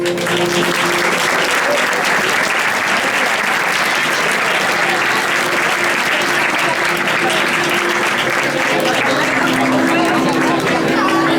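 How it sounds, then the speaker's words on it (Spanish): An audience at a Valencian fallera proclamation ceremony applauding a tabal and dolçaina group, dense sustained clapping from a large crowd with background babble, loud and steady throughout. "Un fort aplaudiment per a ells"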